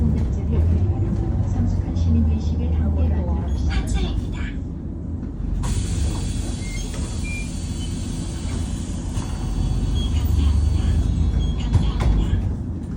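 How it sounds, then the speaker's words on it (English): A city bus in Busan rumbles along with a steady low engine and road hum, rattling interior noises and occasional beeps, while people talk in the background. "But taking the sounds of the bus."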